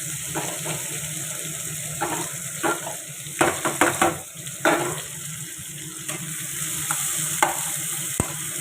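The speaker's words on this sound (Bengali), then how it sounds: "চিনিটা পুড়ে যাক দিয়ে পেঁয়াজ কাটা একটু ভাজা ভাজা হোক" Onions frying with sugar in a pan for a country chicken dish: a steady sizzle broken by sharp stirring scrapes and clatters of the spoon against the pan, close and with no speech.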